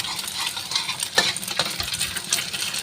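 A utensil stirs beaten egg and meat together in a pan for prawn mee, with soft scraping strokes, a few sharp clicks and a light sizzle underneath, close and without speech.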